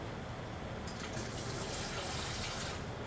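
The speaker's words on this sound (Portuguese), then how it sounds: "Agora eu vou com a água da torneira" Tap water pours steadily into a pot of rice, a soft continuous splashing fill that is fairly faint and close.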